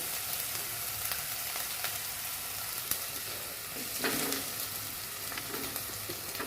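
Sliced onions frying in oil in a pan for a tuna roast, a steady close sizzle and crackle with occasional stirring scrapes and light knocks, no talking.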